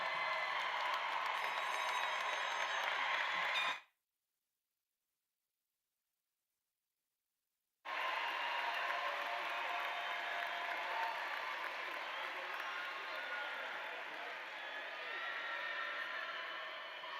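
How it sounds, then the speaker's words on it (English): Graduation audience at the 2024 L.D. Bell High School ceremony applauding, a dense steady wash of clapping that cuts out abruptly for a few seconds, then resumes at full strength and holds evenly to the end. "Let's give these graduates another round of applause."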